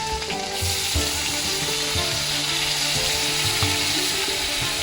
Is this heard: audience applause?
no